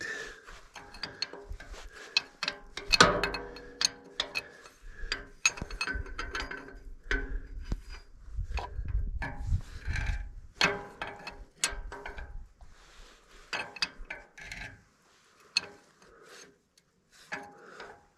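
An open-end wrench tightens a nut on a Farmall A tractor during its final assembly after an overhaul. Irregular metallic clicks, ratcheting taps and scrapes come close up, in bursts with short pauses.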